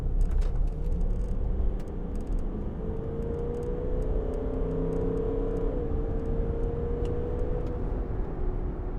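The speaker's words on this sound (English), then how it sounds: "I'll just give it some gas here." A 2012 Range Rover Vogue with a TD V8 diesel engine is revved, a deep steady rumble rising and falling in pitch over several seconds, fairly close, with some clicking noises early on and no talking.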